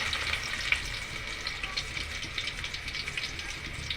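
Onions and spices such as green chilli paste, turmeric, coriander and cumin being fried in oil and stirred for a dried-fish and potato curry, giving a soft steady sizzle with light rhythmic scraping of the spoon.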